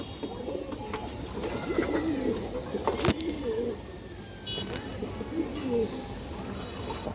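Ring-eyed pigeons coo repeatedly in low, throaty rolling calls, close by, with faint background noise and a sharp click partway through.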